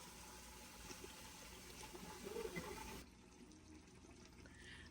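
Water pours and splashes steadily into a pot of tomato beef stew for about three seconds, then the rushing sound cuts off, leaving a quieter running trickle and faint background noise.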